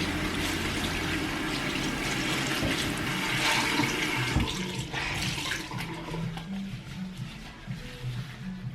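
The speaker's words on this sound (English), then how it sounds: "what I might do is wash my hands first" Tap water runs in a steady rush while hands are washed, loud and close, then thins out and trickles with small splashes toward the end.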